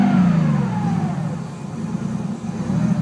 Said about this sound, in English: I'm just going to rev it up one time.